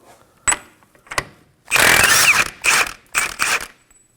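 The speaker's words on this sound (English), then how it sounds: "Using a 32mm socket, we're gonna go ahead and remove the axle nut." A power tool with a 32mm socket zips off the axle nut on a 2016-2020 Kia Sorento, giving a short blip, then a sustained buzzing run and two further close, loud bursts.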